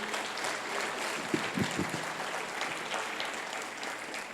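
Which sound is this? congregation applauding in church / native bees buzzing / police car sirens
congregation applauding in church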